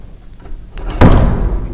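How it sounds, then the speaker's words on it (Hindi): A jammed wooden door in a house closed for decades shuts with a heavy slam, a single solid thud after a faint creak, close and fairly loud. "ये दरवाज़ा जब जाम हो के बंद होता है ना"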